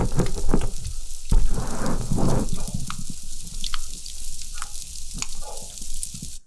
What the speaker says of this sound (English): This is the sound of underwater macroalgae in the oceans.